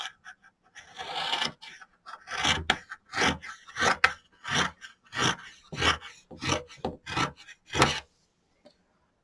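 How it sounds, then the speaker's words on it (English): Scissors snip through fleece seam allowances while sewing a toque, giving a quick run of crisp, close cuts in a steady rhythm of about a dozen strokes with short pauses. "So we're going to clip those."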